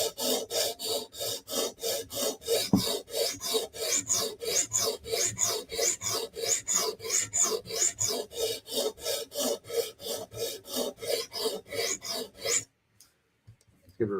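Heel of a Bestech Tanto knife being sharpened, edge taped, in a long run of rhythmic rasping strokes, about three per second, close and steady, then stopping abruptly into near silence.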